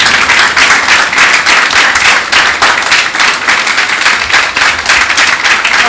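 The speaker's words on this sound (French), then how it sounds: "Nous allons recevoir avec des applaudissements bien mérités Madame Laetitia Dagnon-Coton" A studio audience welcomes a guest onto a French-language magazine talk show with loud, close rhythmic clapping that is fairly regular, sustained for about six seconds without speech.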